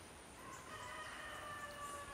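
A rooster crows faintly in the distance, thin and drawn out beneath a steady background hiss.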